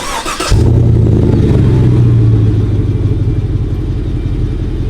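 GM gas truck with an aftermarket exhaust pulling away, starting with a short noisy burst, then a loud close deep engine drone rising through a gear, steady and rumbling for several seconds.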